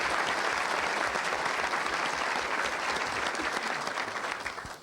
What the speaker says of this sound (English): Nice round of applause for Mr. Vallas.